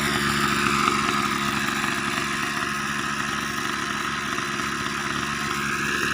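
A Kubota SK34 brush cutter engine idles steadily and close by, a continuous even hum with no talk over it.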